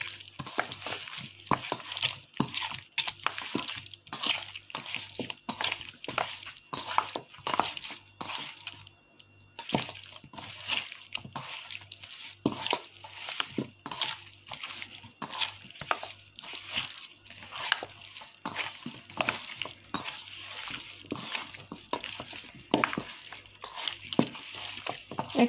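Chicken pieces are squished and mixed with spices by hand for frying, giving soft wet squelches and rhythmic slaps that repeat for a long stretch, fairly quiet and close, with no talk.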